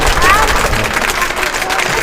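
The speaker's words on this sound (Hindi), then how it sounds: "तालियों से स्वागत करेंगे" Applause from the audience at a school farewell event for transferred teachers in Bulandshahr, India, welcoming a speaker to the stage: a dense, steady wash of clapping that runs close and loud for the whole stretch.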